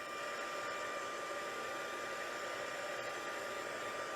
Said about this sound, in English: I'm going to hit this with my heat tool just to dry it again